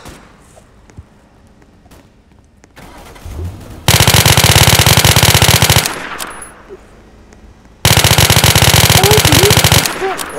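Video game gunfire comes as two long, very loud bursts of rapid automatic fire, with quieter game sounds and scattered shots between them.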